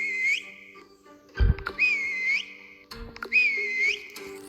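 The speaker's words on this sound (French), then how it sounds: "j'ai sifflé juste au moment où il était là" A person whistles three bright, repeated phrases with a rising and falling tone, close and clear. Soft thumps and bumps fall between the phrases, and no one speaks.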